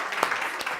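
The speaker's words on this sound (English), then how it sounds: "if you don't mind joining me again in a rapturous applause in welcoming her" Audience applause welcoming a lecturer at a talk on cuisine in the age of Samuel Johnson, a brief, steady wash of many hands clapping in a hall.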